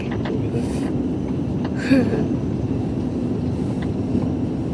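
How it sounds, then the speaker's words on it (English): A Philippine Airlines Airbus A340 landing at Oahu's airport in Hawaii gives a steady, broad jet roar with a low rumble that holds level throughout, with a slight swell near the middle. "Look, landing airplane."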